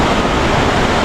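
A mountain waterfall at Pelsity Point on the Adi Kailash route, running low in the summer season, makes a steady, loud, close hiss of falling water with no other sounds breaking through.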